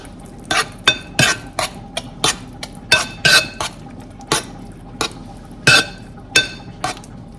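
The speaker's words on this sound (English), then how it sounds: "Mix that together." Einkorn banana bread ingredients being mixed in a bowl, a spoon knocking and scraping against the sides in an irregular series of close, bright clinks, with no talk.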